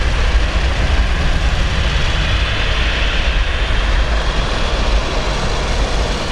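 An Embraer 190 airliner at Zurich Airport produces a loud, continuous jet-engine roar with a heavy low rumble and a broad hiss, steady throughout with no pauses.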